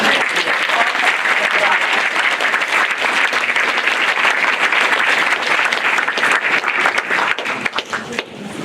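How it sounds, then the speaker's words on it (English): A large audience at a university nursing school's graduation ceremony applauds a creative projects director, loud, sustained clapping from a big crowd that holds steady for over eight seconds and eases slightly at the end. "Please give her a round of applause to say thank you."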